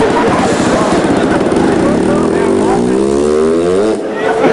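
A voice mimics a Honda motorcycle engine revving, a buzzy, wavering drone that rises and falls steadily for several seconds, loud and close, before briefly dropping at the end.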